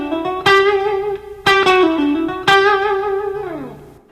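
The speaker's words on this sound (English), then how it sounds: "I do a couple faster pull-off and picking licks." Distorted electric guitar playing a pull-off and picking lick at slowed speed, three sharp picked attacks about a second apart, each followed by ringing, bending notes, close and loud with effects, no voices.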